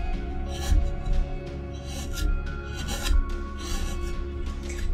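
Wood being carved by hand, with close rasping and scraping strokes in an irregular rhythm and a few duller knocks, no talking.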